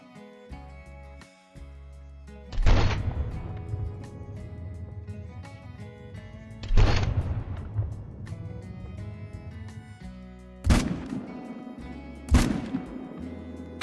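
Rifle shots at whitetail deer in a hunting video game: four sharp, loud reports spaced several seconds apart, each followed by a rolling echo that decays slowly, with quiet ambience between them.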